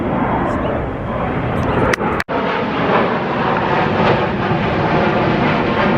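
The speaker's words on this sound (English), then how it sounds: "a plane is taking off directly behind me" A plane takes off close by on the corner of Monterey and Evergreen in Burbank, its broad roaring engine noise loud and continuous throughout, with a brief clunk partway through.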